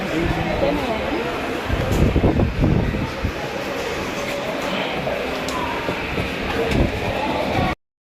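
Train pulling into a station, a steady broadband rumble of wheels and carriages with brief louder surges, heard close from on board with people talking faintly in the background.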